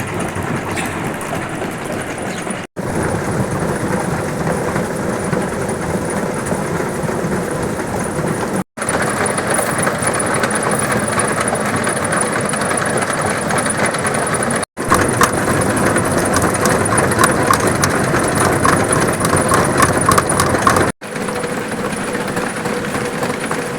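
A homemade scraper conveyor for grain runs with a loud, steady mechanical drone and clatter that continues without a break, cut off briefly a few times.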